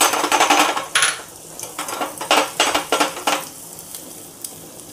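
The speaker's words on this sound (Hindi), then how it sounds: "अब मैंने इसमें डाल देना अपना जीरा भी, नमक भी और ब्लैक पेपर सब एक साथ" Cumin, salt and black pepper sizzle in hot oil for a tempering, under repeated sharp clinks and scrapes of a spoon against the pan, loud and close, in uneven bursts.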